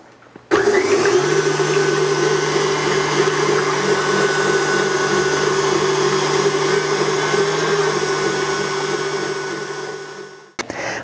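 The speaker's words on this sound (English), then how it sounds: "So I'm going to start beating my white" An electric mixer whirs steadily while beating egg whites, starting abruptly and holding a loud, constant motor drone for about ten seconds before cutting off.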